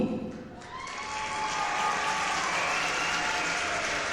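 A whole auditorium bursts into applause as a beloved storyteller is introduced on stage. Clapping rises quickly into a dense, sustained roar of many hands, close and full, with no speech over it.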